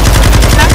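Rapid gunfire from a Call of Duty: Modern Warfare 2 match, a loud, dense burst of shots hammering steadily through the whole short moment with no pause.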